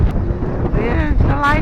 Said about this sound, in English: the wind has picked up, so it actually feels colder than when we took off